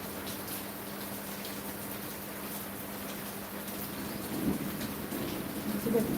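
Steady rain falls outdoors, a continuous hiss that swells louder toward the end, with a faint low rumble of thunder in the background.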